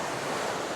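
Sea waves wash against the gulf shore at Banay-Banay, Davao Oriental, a steady broadband surf roar with some wind, continuous and fairly close.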